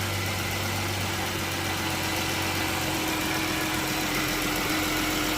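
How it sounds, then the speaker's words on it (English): A 2012 Dodge Charger SXT idling just after starting, following a thermostat replacement: a steady low engine hum with constant vibration, even and unbroken, no talking. "So we got the car started."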